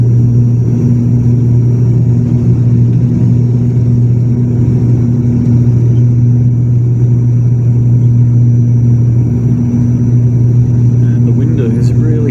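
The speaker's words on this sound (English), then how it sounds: "The engines keep spooling up and then spooling back." Airliner engines on approach during a Cebgo flight from Manila to Naga hum loudly and steadily inside the cabin, a deep constant drone with a faint shift in pitch near the end.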